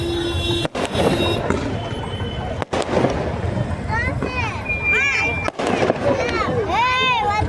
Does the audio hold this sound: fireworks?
yes